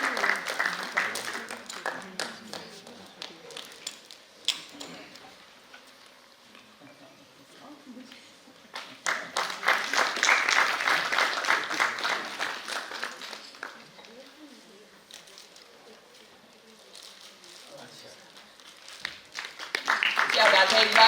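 Audience applause at a three-day theatre and honours ceremony in India, swelling in broad waves of clapping that rise, fade and return, mixed with crowd noise and brief voices throughout.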